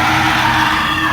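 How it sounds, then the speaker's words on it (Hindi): Terrifying screams ring out in a horror comedy set at a haunted roadside tea stall, a loud, sustained shrieking cry that fills the moment without pause. "चारों तरफ से भयानक चीखें सुनाई देती हैं।"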